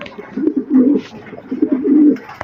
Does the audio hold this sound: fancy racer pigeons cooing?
yes